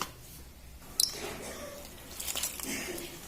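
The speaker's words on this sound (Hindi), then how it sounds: "पानी डाल के हम घोल तैयार कर ले छिए, जे कोफ्ता हम एमे डाल के फ्राई करबे" Water is poured into a turmeric and garlic paste batter for jackfruit kofta while it is stirred, giving quiet wet squishing and splashing that becomes louder and more broken in the second half.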